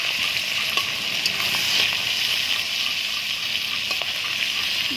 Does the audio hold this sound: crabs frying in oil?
yes